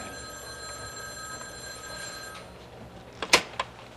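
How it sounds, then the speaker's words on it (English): A telephone rings in a newsroom office scene, a couple of brief bell bursts near the end standing out over a steady background hum with tonal lines. "Phone, Dad."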